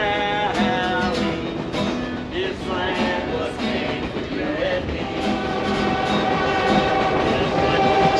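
A passenger train to the Grand Canyon rumbles along loudly with clattering wheels, while a sustained horn sounds over the steady roll.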